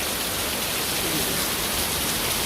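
Dense, constant hiss of heavy rain pouring down nearby, loud and unbroken throughout.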